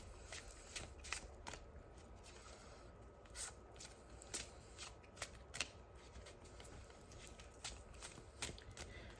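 A deck of tarot cards being shuffled close up, a run of soft riffling bursts and papery slaps repeating every second or so against a quiet room.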